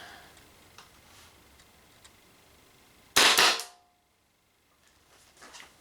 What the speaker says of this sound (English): Let's see if it will shoot in full auto.